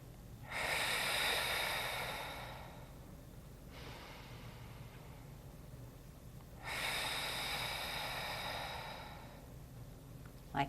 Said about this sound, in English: I'm going to inhale through the nose, then exhale through the mouth.